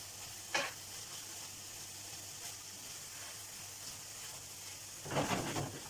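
Mushrooms and vegetables fry in a pan with a steady, soft sizzle throughout, broken by a brief stir early on and a louder stirring clatter near the end; no one speaks.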